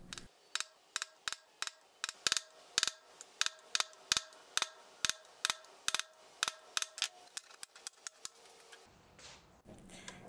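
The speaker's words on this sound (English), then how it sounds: "Now I'm going to mark out and center punch all the pinholes" Sharp metallic taps from a center punch marking holes in steel knife blanks, dozens in a quick irregular series, close and crisp, with a brief shuffle at the end.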